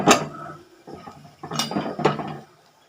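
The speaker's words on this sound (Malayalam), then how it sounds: "ഉപ്പൂട്ട് നല്ലോണം ഇങ്ങനെ വഴറ്റുക നല്ല ഉരുളക്കിഴങ്ങ് നല്ല വഴറ്റി" Potatoes are sautéed in a pan with a spatula that knocks and scrapes in repeated clattering strokes, close and fairly loud.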